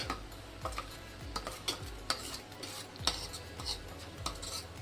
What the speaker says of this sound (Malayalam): ഈ തേങ്ങ അരച്ചത് ഇടുവാണ്.